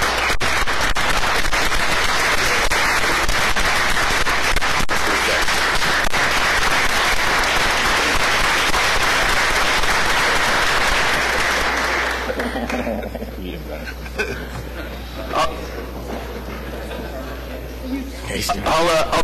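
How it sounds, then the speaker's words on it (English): Applause from the audience at a city council meeting swells loud and dense, then drops away around the twelfth second, leaving scattered claps and light room noise. "we especially congratulate and applaud Chuck Dinkins and his entire staff as well"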